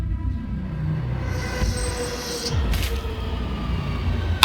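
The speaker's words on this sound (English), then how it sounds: "The train thunders forward." A train thunders forward with a heavy, continuous low rumble of wheels on rails, close and loud, while high metallic squeals and a sharp screech cut in midway.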